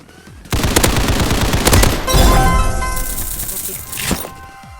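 Rapid bursts of automatic gunfire with booming shots fill a round of the online shooter game Hypershot, loud and nearly continuous with brief shattering hits.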